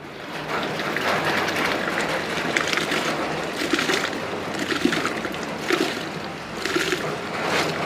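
Steady bubbling, churning water with a dense, hissing texture, like a pot at a rolling boil just before rice is added, close by with no talk.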